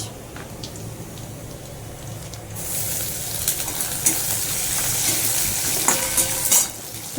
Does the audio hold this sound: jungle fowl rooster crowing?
no